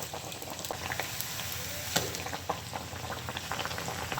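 Sabudana vadas frying in oil over a low flame, a steady bubbling hiss with a few soft pops, with no talking.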